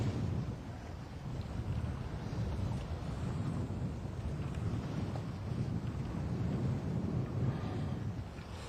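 Strong wind of around 20 knots buffets a sailboat at sea, a loud, steady roar with low rumbling gusts pressing on the microphone and no voices.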